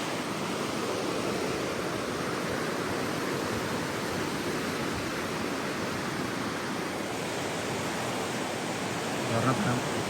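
A flooded mountain river in Nepal, swollen by monsoon floodwater near landslides, roars as a dense, steady rush of water that stays close and loud without letup for the whole stretch.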